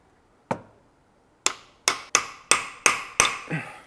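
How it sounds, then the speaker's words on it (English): Sharp metallic hammer blows strike a chisel against the shaft and nut of an old BMW E39 530i Touring, one isolated hit followed after a pause by six quicker, evenly spaced taps, close and clear. "So grab a chisel and put a mark on the shaft and the nut."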